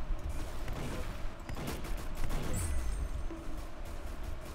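Rapid bursts of gunfire in the Roblox shooter Arsenal, sharp overlapping shots crackling steadily through the whole stretch with no voices.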